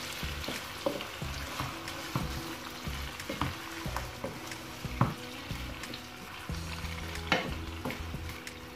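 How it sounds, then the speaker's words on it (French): Onion and browned chicken wings frying in a pan for a quick paella, a steady close sizzle with stirring scrapes and occasional pops, no voices. "On va mettre notre oignon."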